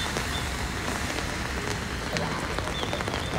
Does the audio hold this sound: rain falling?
yes